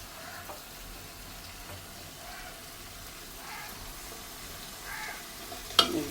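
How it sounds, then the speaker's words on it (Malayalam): Chicken pieces stirred into frying masala in a pan, a soft steady sizzle with faint scraping strokes and a sharper clink near the end. "ഈ ചിക്കനെ ഇതിൽ നന്നായി ഇളക്കി ചേർത്തെടുക്കാം"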